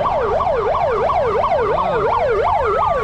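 An ambulance siren wails loudly and close at the Rato Machindranath chariot festival in Nepal, its rapid rising and falling tone repeating steadily.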